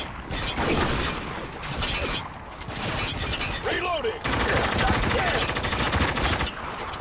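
Dense gunfire in the Spec Ops: The Line video game hammers almost continuously, with rapid automatic bursts and mechanical clatter, loud and close, and a voice briefly calls out amid the shooting.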